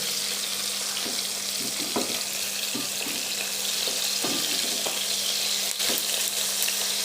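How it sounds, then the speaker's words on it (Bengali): Pieces of katla fish frying in oil in a home kitchen give off a steady hiss and sizzle, broken by soft clinks and taps as the pieces are turned one by one, all close by and continuous. "এখন আমি মাছগুলো সব উল্টিয়ে দিচ্ছি এক এক করে।"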